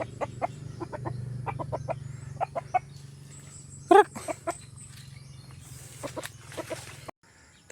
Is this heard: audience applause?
no